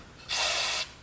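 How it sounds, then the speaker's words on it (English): A single short burst of carb cleaner sprays onto the starter pinion gear of an antique Lawn-Boy edger, a close, sharp hiss lasting about half a second against a quiet background. "So I'm going to spray some carb spray on there."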